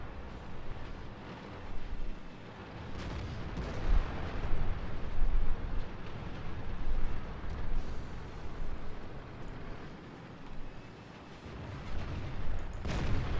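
Tank cannon fire and explosions in a T-54 to T-62A tank battle video game, a sustained rumbling barrage with repeated deep booms and blasts rolling over one another, loud and continuous.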